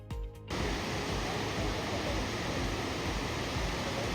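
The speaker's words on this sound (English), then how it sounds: "Gibbon Falls splays out wide as it falls into Madison Valley." Gibbon Falls in Yellowstone spilling wide into Madison Valley, a steady broad roar of falling water that sets in after a brief muffled opening and continues unbroken to the end.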